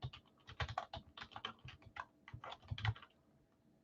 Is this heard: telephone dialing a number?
no